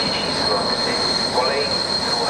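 A Eurocity train stands at a station platform while its wheels give a loud, sustained high-pitched squeal over continuous rail rumble and station noise.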